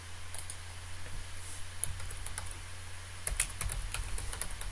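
Quiet, steady typing on a computer keyboard while entering accounting transactions in desktop software. Soft clicks come in quick bursts, with a few louder keystrokes, over a low background hum and no talk.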